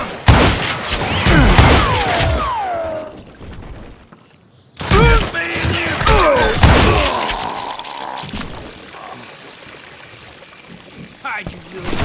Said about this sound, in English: Shoot him! Shoot him!